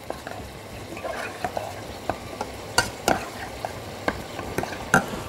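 A pot of beef curry with coconut milk stirred over the heat, a soft continuous simmer-sizzle broken by scattered clinks and scrapes of the spoon against the pot.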